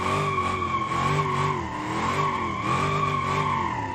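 Tyres squealing in a steady, wavering screech as a car drifts in BeamNG.drive, the engine droning underneath, loud and continuous for the whole stretch with no talk.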